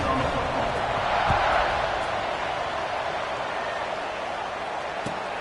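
Stadium crowd cheering at a night football game in Louisville, a loud, sustained roar of many voices with a couple of sharp thumps, fairly close and steady, with no speech over it.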